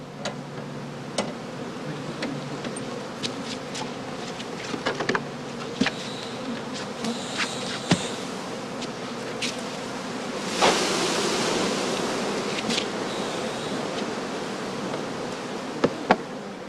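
Honeybees buzz steadily at a heather skep apiary in northern Lower Saxony heathland, a dense continuous hum that swells louder around the middle, with occasional brief knocks.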